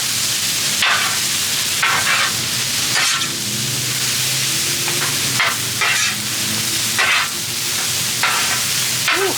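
Noodles and vegetables stir-fry on a hot Blackstone griddle with a steady loud sizzle, broken by scraping spatula strokes and stirring clatter, no one speaking.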